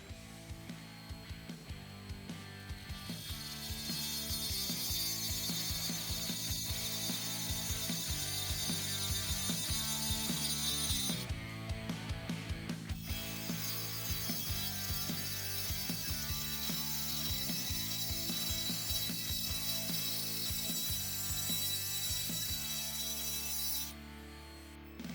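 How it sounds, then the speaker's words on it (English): Dremel 8260 brushless rotary tool fitted with a 570 grout bit grinding out tile grout, a close, continuous high whine with rattling, gritty scraping that shifts in pitch as it moves along the joints; no talk. "Now we are going to use the Dremel 570 bit and going to go through the grout right through here and through here."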